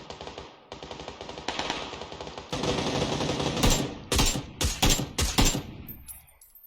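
Gunfire in a battle royale video game: a long, dense burst of rapid automatic fire, then a run of separate loud shots that ring out and fade to quiet, with no talk over it.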